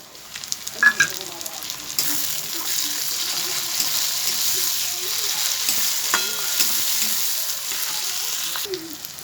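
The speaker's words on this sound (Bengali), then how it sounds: "টমেটো আর পেঁয়াজটা ভাজা ভাজা হয়ে গেছে" Onions and tomato fry in a pan for egg curry, a continuous close sizzle with scraping stirs and clinks of the spatula breaking through at intervals.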